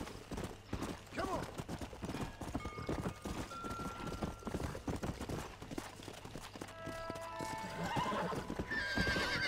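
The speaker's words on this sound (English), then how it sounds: "I seem to be really bonding with this horse." A horse in the Red Dead Redemption video game gallops with a fast clip-clop of hooves throughout and lets out loud whinnies, while a voice talks over the hoofbeats.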